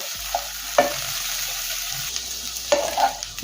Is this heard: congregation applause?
no